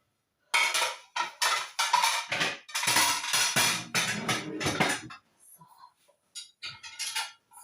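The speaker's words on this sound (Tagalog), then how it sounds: "pinapasok ko yung mga kaldero ko para puno siya" Metal cooking pots clatter and clank as they are stacked away in a home kitchen early in the morning, a rapid series of close, bright knocks and scrapes with short gaps.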